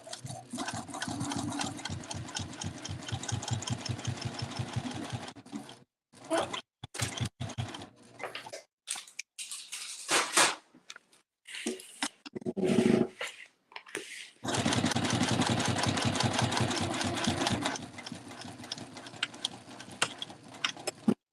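A sewing machine stitches a pocket onto a clamshell baby sling in long, rapid, rhythmic bursts, broken by pauses with brief handling noises and a short voice.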